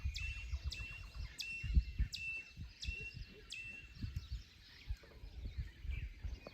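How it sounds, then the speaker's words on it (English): Birds singing at dawn in the Mayan ruins of Tikal, a repeated high, clear whistled call sounding at regular intervals over low rumbling background noise, moderately close. "the birds came around to sing their first song of the day"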